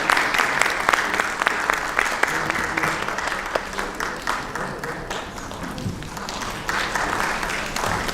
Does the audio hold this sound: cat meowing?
no